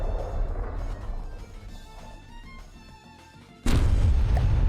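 A steampunk-styled cannon in Wreckfest fires with a sudden heavy boom near the end, loud and broadband after a stretch of lower engine and ambient noise.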